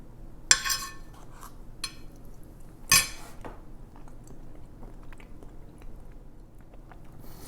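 Cultured butter being tasted, with a couple of sharp clinks of a knife or cutlery and soft, close chewing and mouth sounds in a quiet room.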